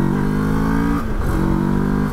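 A Moto Morini X-Cape adventure motorcycle with a 180-degree crank twin revs loudly up close, a steady throbbing engine note that dips briefly and climbs again.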